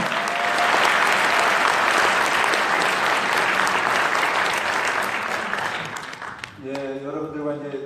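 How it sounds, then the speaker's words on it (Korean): An audience gives loud, sustained applause at a 2017 political talk at Pusan National University in Korea. The dense clapping fills about six seconds, then thins and fades as a voice begins speaking. "힘찬 박수 우리 해주시죠."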